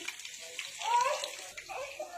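Water splashes and spills in a home kitchen, a short wet gush in the middle while people talk.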